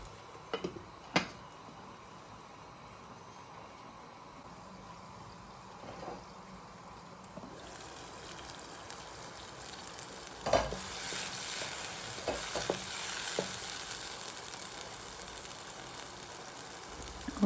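Egg sauce frying in a covered pan for a Nigerian plantain dish, a soft, steady sizzle with a few sharp clicks and knocks, growing a little louder partway through.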